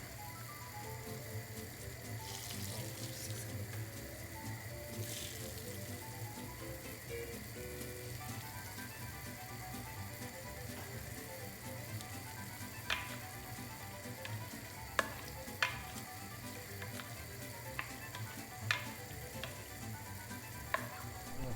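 Melted butter poured over Kahramanmaraş-style water börek (sulu börek), giving a steady, close sizzle and crackle with a few sharp ticks near the end, without any voices.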